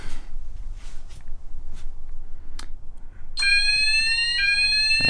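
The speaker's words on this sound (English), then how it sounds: "and that's the smoke detector tested." Soft clicks and handling noises come first, then a smoke detector on an addressable fire alarm system goes off during a test with a loud, steady, piercing electronic tone that keeps sounding to the end.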